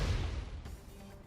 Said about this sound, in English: Explosion in the hangar!